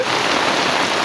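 Torrential village rain keeps falling without pause, a thick, close, uniform wash of patter filling the brief moment with no voices.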